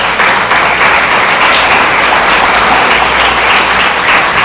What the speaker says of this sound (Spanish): yo les pido un fuerte aplauso a todos los papás que están acá.